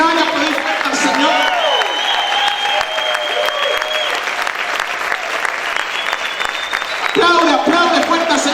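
A church congregation clapping loudly and steadily throughout, with a preacher speaking Spanish over the applause and shouting near the end.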